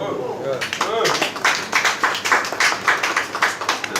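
An audience at a wine award dinner in a restaurant breaks into clapping after a brief spoken phrase, the claps quickly building into loud, dense applause that continues in rhythmic waves.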